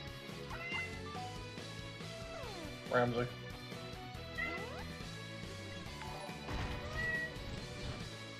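A pet cat named Ramsey meows close by, a few short rising and falling cries over steady background music, while someone talks alongside.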